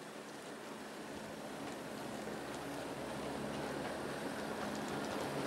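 A large-scale Aristo model train with a USA Trains locomotive pulls a long consist including a Southern Pacific heavyweight RPO car on three-axle trucks, giving a steady rolling rumble and wheel noise that builds slightly louder throughout, with no voices.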